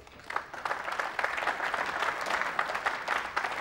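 A crowd at the 1996 Mosconi Cup pool match applauds a shot with steady, moderately loud clapping that swells in after a quiet opening and keeps going evenly.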